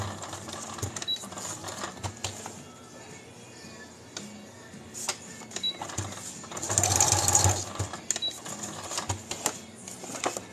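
A sewing machine stitches paper pages for a junk journal in short bursts of mechanical whirring and clicking, growing louder and busier toward the end, with faint speech in the background.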